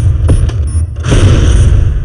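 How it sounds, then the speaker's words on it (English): A loud booming blast from an exploding 9mm shell, with a short thud early on, then a heavy low rumble and bright crackle that sustain to the end. "Exploding 9mm shell."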